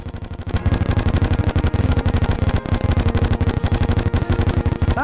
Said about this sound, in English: Twirls a baton that creates explosions and enemy hits.